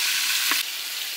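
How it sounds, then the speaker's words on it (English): Onions frying in a pan over medium-low heat, producing a steady hiss of sizzling with a brief clatter midway before it settles into a slightly quieter, constant fry. "Turn the heat down to a medium low. Add the onions."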